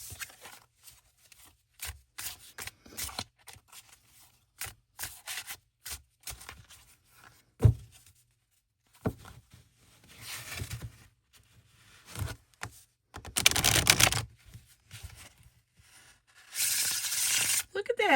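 A linen-finish oracle card deck is shuffled by hand in several bursts of papery riffling and rubbing, with quiet gaps between them and brief talking in places.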